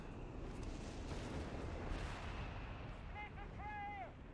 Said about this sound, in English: The Wesps are firing.